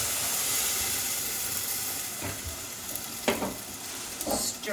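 Canned tomatoes hit a pan of sautéed onions and garlic, making a loud, steady sizzle and hiss with a few scraping stirs near the end.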